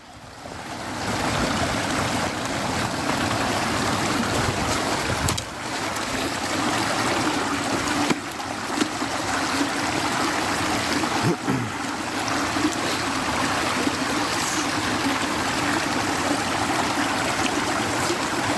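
A brook runs steadily near a residential street and train bridge, a continuous close broadband rush of flowing water with a few small splashy bumps, no talking.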